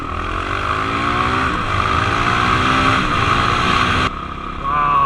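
A 2019 Honda CRF450L dual-sport motorcycle engine drones loud and close while ridden on open trails and gravel roads, rising in pitch with acceleration and shifting, with wind rushing throughout.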